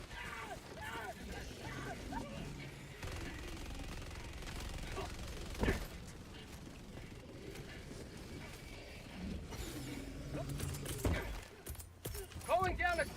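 Gatling gun fire in an online shooter game, quick mechanical rattling bursts and a sharp shot amid clanking effects, with players talking over the action throughout.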